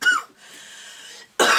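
A single sharp cough bursts out close and loud, then a long breathy exhale, and a second cough starts right at the end.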